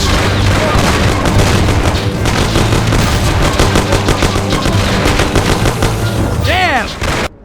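A gunfight in the video game Mafia (2002): loud, rapid bursts of machine-gun and pistol fire with booming shots, nearly continuous for several seconds, with shouting voices mixed in and a ricochet-like whine near the end.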